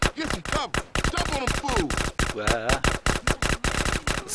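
Rapid bursts of gunfire from GTA San Andreas, loud repeated shots in quick rhythmic volleys with game sound effects mixed in, filling the whole stretch without pause.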